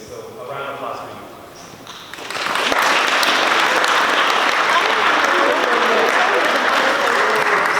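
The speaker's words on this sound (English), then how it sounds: "So a round of applause for you." A holiday chorus concert audience breaks into loud, sustained applause after about two seconds of quieter talk and murmur, the dense clapping holding steady to the end.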